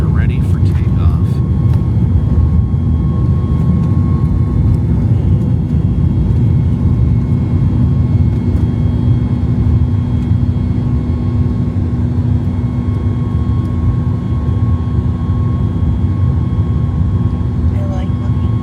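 Airliner taking off after de-icing, heard from inside the cabin on a flight back to Charlotte from Los Angeles, a loud, steady low engine roar and rumble that holds throughout with no change in level.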